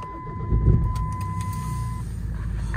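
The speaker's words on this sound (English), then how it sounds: "Now I'm going to start this car up. Turn the key there." A 2007 Jeep Cherokee 2.8 CRD diesel with a six-speed manual starts up, a brief starter crank followed by the engine catching and settling into a steady, close idle rumble.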